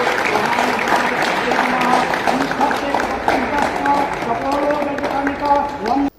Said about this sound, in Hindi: इस बाइक से जैसे ही पर्दा उठा पूरा शोरूम तालियों की आवाज से गूंजने लगा।